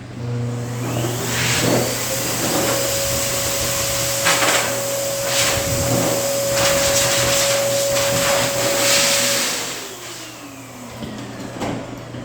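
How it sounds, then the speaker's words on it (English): A Super Cyclone blow dryer runs steadily while drying a dog's coat during grooming, a loud continuous motor whoosh with a sustained tone that cuts off near the end, leaving quieter room noise. "If you're looking for a really nice, cheap blow dryer"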